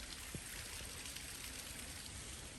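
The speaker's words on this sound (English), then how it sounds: "head over there where I'm hearing the waterfall" Soft, steady rush of water from a distant waterfall with light trickling along a hiking trail at Ferne Clyffe State Park, a faint continuous wash with no voices.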